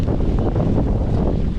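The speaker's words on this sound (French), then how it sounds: "Et là je sens bien le vent de face." Headwind roars across the microphone of a rider on a mountain bike during a cross-country course reconnaissance at the 2023 French championships, a dense, continuous buffeting rumble with no voices.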